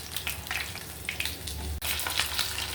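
Pieces of rock fish fry in hot oil, a close, steady sizzle with crackling spatters and occasional louder pops.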